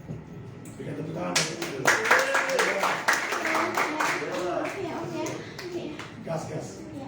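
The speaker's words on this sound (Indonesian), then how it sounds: "Berikan tepuk tangan." A church congregation at a Sunday service claps hands in a lively, fairly steady rhythm, with voices mixed in beneath the clapping.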